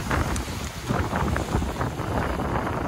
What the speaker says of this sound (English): As we come into anchor, the wind picks up